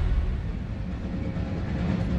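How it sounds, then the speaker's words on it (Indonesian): A train in the video game Final Fantasy VII Remake, during an escape scene, gives a steady heavy rumble of rolling rail noise with low mechanical clatter, loud and continuous with no voices. "Dan ini memang ada adegan di mana kita kabur lewat kereta ya guys."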